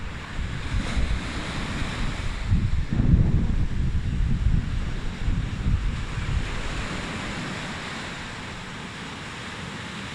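Sea waves wash and roll continuously, mixed with gusty wind buffeting the microphone, a broad steady roar that swells around the middle and slowly eases toward the end.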